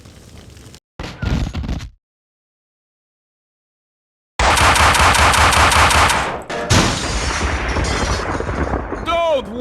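Gunfire in a Max Payne video game cutscene: a short burst, a long silent gap, then loud, dense, sustained shots and booms that run to the end with little pause.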